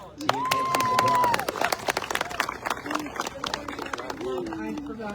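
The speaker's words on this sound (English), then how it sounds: "Give Sarah a round of applause." Steady clapping from an outdoor crowd at a charity walk, with a shout and a whistle near the start and voices calling out over the sparse applause as it trails off.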